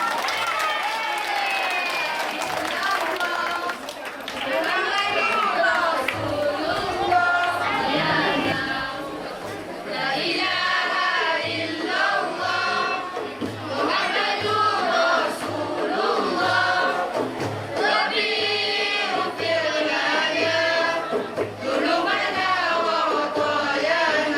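An audience at a church event claps for young singers after a religious song, with steady, fairly close applause and crowd chatter mixed in, while a voice speaks over it at times.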